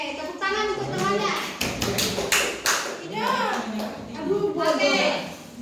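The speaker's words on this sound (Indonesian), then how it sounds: "tepuk tangan untuk temannya" Schoolchildren in an Indonesian classroom clap their hands for a classmate, a burst of uneven close claps mixed with children's voices and chatter throughout.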